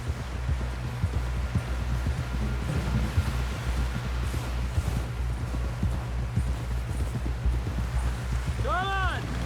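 Horse hooves galloping in the Red Dead Redemption 2 video game, a steady rhythmic clip-clop that runs throughout under a low rumble, with voices talking over it.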